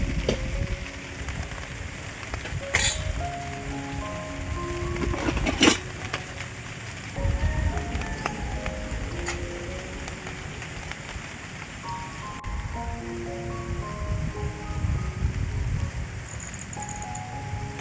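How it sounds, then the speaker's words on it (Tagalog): Steady rain patters over a campsite where a minivan is parked, a dense hiss that fills the whole stretch, with soft melodic tones drifting underneath. "Yan, umuulan na nga, tinutuon na."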